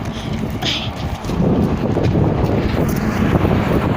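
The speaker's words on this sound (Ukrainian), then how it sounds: "Дуже вітряно капець." Heavy wind buffets the microphone with a continuous low rumble and gusty roar, loud and close, with no voices.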